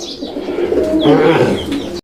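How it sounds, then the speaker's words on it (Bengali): Grizzle pigeons coo close by, with a few soft, throaty rolling coos rising and falling over a brief stretch, and a faint chirp near the start. "দেখতে পাচ্ছেন ভরপুর ডাকের কবুতর"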